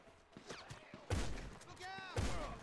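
Gunfire in GTA 5: two heavy bursts of shots hit about a second apart over a quieter, busy background. A voice can be heard talking faintly in between.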